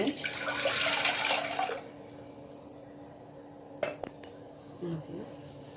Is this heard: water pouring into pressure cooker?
yes